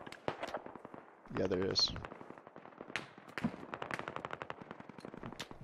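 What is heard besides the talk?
gunfire from the west in the video game Squad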